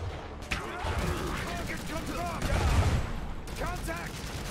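Gunfire in the Iron Harvest strategy game: a burst of rapid overlapping shots and distant crackling volleys, with a voice calling out over the battle noise.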